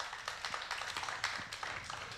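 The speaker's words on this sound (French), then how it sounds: "Vous pouvez les applaudir, mesdames et messieurs, si vous le voulez bien" Distant, faint applause for sailors at a La Solitaire URGO Le Figaro race stage, with scattered light clapping in an uneven rhythm filling the whole short stretch.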